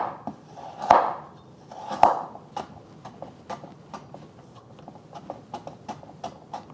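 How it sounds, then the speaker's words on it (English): Half a carrot being julienned with a knife on a cutting board: two louder chops open, then a steady run of quick, crisp knife taps, close and dry, with no talking. "I'm using half a carrot that I'm going to julienne"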